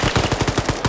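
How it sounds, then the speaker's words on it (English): Automatic gunfire in a multiplayer shooter video game, a rapid burst of about ten evenly spaced shots, loud and close, with no talk over it. "Alert spots Kurt and immediately blows him away."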